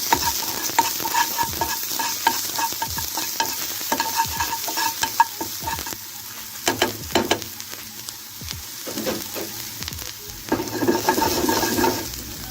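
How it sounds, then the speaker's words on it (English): Onion sizzles in a frying pan as it is stirred, a continuous frying hiss broken by repeated scraping and clattering strokes of the utensil against the pan, with no talk. "Along with that, we're going to add some onion. In. Give it a stir."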